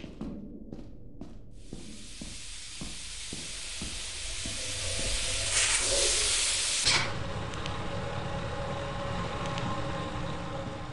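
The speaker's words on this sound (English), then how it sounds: "I got rid of the steam." Steam hisses in the video game Lethal Company, a steady broadband hiss that swells louder and then cuts off abruptly, leaving a quieter ambient background.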